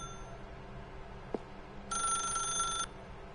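A telephone bell rings in The Stanley Parable 2, a single clear electronic ring burst lasting about a second, preceded by a brief click, over a quiet ambient room hum.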